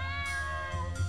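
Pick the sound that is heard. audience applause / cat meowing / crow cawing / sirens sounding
cat meowing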